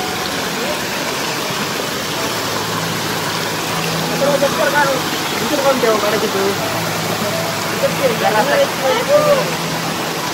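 A waterfall rushes in a constant, broad hiss that fills the scene from start to finish, with voices of a group of friends talking faintly over the steady roar.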